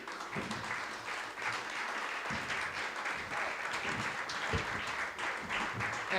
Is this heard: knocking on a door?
no